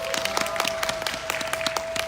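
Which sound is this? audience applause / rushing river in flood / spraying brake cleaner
audience applause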